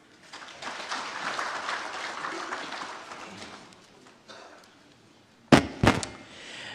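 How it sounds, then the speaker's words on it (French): An audience at a launch ceremony applauds after a speech, a moderate patter of clapping that swells then tapers off, followed by a few sharp knocks or thumps near the end. "On va l'applaudir, très belle adresse de Rokiatou Traoré"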